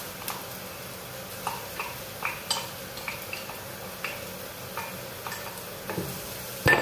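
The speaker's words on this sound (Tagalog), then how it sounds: "gisa-gisa tayo ng bawang, sibuyas, kamatis, at saka, ito, dinikdik na bawang." Quiet pan cooking of garlic, onion and tomato, with scattered soft scrapes and taps of a utensil stirring, over a low background hiss; no talking.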